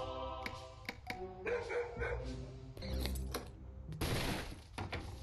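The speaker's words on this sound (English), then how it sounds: "This room we have the dog, but we don't care much. Let him bark." A dog barks repeatedly in quick, irregular bursts over a steady background in the game Robbery Bob, ending in a harsher noisy burst, with a synthetic, game-like quality.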